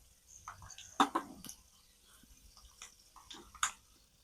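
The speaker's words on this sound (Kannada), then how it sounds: "ಇವಾಗ ನಾನು ಈಗ ಸಾಸಿವೆನ ಹಾಕೋತಾ ಇದ್ದೀನಿ" Mustard seeds spluttering in hot oil while tempering avalakki chitranna, a flattened-rice dish; a few sharp, scattered pops and crackles, faint and irregular against a quiet background.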